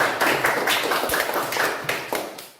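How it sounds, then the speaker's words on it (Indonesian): A short burst of hand clapping from a small group in a classroom, a handful of quick claps in irregular rhythm, close and fairly loud. "tepuk tangan untuk komentar"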